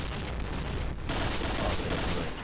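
Rapid automatic gunfire in a competitive shooter match, loud and dense sustained bursts filling the whole moment with a short dip midway.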